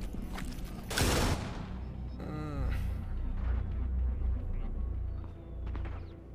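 Video game gunfire in a ranked match, a sharp loud burst of shots near the start followed by a mechanical rattle and scattered softer shots over a low rumble.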